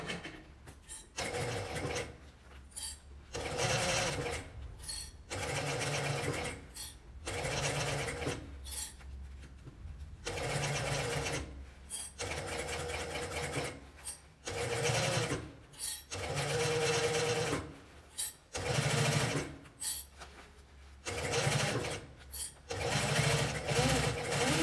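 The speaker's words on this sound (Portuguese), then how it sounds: "Agora a gente vai passar uma costura aqui na beiradinha dela toda" Sewing machine stitching a seam along the edge of fabric at stitch length 4, running in repeated bursts of whirring with short pauses between, close and fairly loud, with a voice talking in places.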